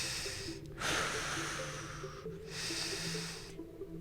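Slow, deep breaths during a forearm plank at a barefoot bootcamp workout, two long hissing exhalations through the nose or mouth with quiet pauses between, close and clear.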